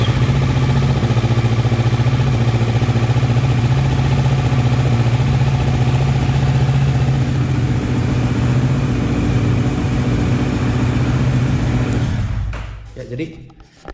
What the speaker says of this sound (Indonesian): Jadi kedengeran ya suara mesin gue.